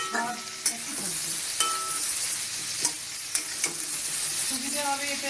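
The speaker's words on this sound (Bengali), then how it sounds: "ভাজা হয়ে গেছে, এবার এর মধ্যেই আমি পেঁয়াজ কুচি দিয়ে দেবো।" Chopped onions frying together with fried potatoes in a pan for a home-style potato and pointed gourd curry: a steady close sizzle with intermittent stirring clinks and scrapes, no talk.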